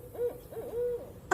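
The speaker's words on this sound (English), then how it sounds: "Oh my owl just heard me talking." An owl hoots in Florida wetlands, giving a few soft, low, wavering calls at moderate distance, with no talk over them.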